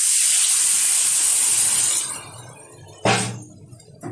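Water poured into a hot pan of spiced papaya and potato erupts in a loud, bright hiss that fades after about two seconds, followed by a short, sharp clatter and a brief faint sizzle.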